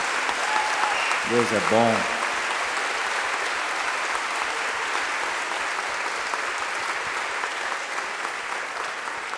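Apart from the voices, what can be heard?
congregation applauding in church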